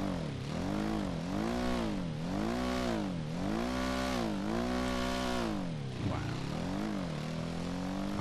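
A Pegassi Esskey motorcycle engine in GTA 5 Online drones continuously, its pitch rising and falling in a repeated revving pattern, loud and close throughout.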